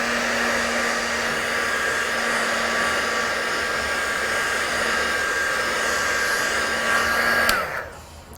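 A heat tool blows steadily close by, drying and heat-setting Distress Oxide ink on a card with a constant whirring hum, then switches off and winds down near the end.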